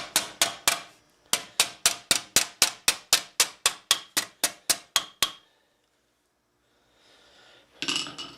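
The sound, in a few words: hammering steel for Milanese mitten gauntlets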